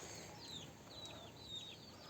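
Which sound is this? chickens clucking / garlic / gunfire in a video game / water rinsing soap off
chickens clucking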